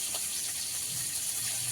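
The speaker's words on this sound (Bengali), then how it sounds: "আস্তে আস্তে ঢালো, না হলে পড়ে যাবে।" Lemon sherbet with sugar poured through a strainer into glasses, a soft, steady trickle and splash of liquid, fairly faint with a slight low gurgle toward the end.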